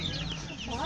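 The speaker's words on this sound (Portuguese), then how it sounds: "Olha que galinha feia." Chickens cluck faintly on a small farm where rabbits and chicks roam together, a brief soft burst of fowl calls in a busy, noisy background.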